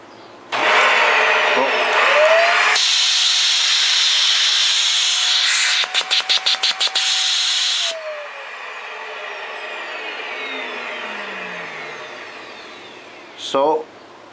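A Hoover Air Steerable upright vacuum with its canister removed runs loudly with a rushing, hissing airflow that shifts pitch, briefly flutters, then winds down, ending in a short clunk.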